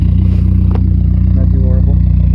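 A 2004 Dodge SRT4 engine runs loud and close with a rapid, pulsing idle, and a person talks briefly over it.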